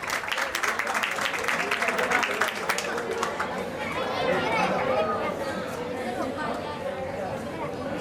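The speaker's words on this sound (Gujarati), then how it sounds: "જોરદાર તાળીઓ આશુતોષ માટે અને ખાસ સતીશ સર માટે પણ." Audience applause at the Saraswati Institute annual function with prize distribution: a burst of clapping mixed with lively crowd chatter and children's voices, fading into general hubbub while people talk.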